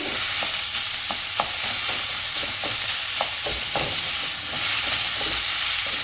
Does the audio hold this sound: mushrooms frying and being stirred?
yes